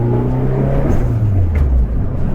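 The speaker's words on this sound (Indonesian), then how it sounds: "Suaranya blow off-nya itu ciri khas" Mitsubishi Lancer Evo 4 turbo car with a loud, steady low engine drone throughout, the pitch sliding down as it eases off, with a brief airy puff near the end that fits a blow-off valve release.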